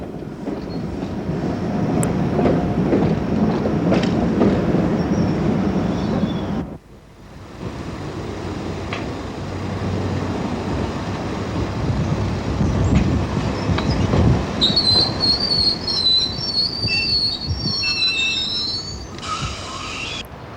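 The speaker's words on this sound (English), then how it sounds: "we take a look at the prototype trains of the 1990s" Prototype London Underground trains of the 1990s running on rails at Neasden, a steady loud rumble and clatter of wheels close by, with a brief drop partway through and high screeching tones near the end.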